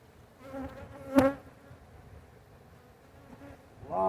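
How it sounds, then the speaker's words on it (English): Honey bees buzz softly and continuously around a hive box during swarm work, with a louder close pass near the start and another swell at the end. "A lot of bees in the bottom of this box."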